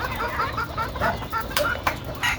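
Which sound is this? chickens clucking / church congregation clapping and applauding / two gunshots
chickens clucking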